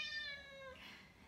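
A pet cat in a home kitchen gives a single clear, close meow toward the camera. The meow rises, then trails off, heard alone with no talk.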